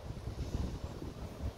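Wind gusts buffet the microphone outdoors beside a beehive during an oxalic acid treatment, a low, steady rumble that stays fairly faint with no voices.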